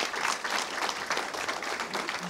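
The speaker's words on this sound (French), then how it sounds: "peut-être vous demander d'applaudir les intervenants" Audience applauding the speakers at a university medical faculty ethics conference in Paris, a continuous dense clapping from a roomful of people at steady, fairly strong level with no speech over it.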